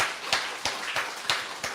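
Congregation at an evening church service applauding in unison, a few loud rhythmic claps spaced about a third of a second apart over steady room noise.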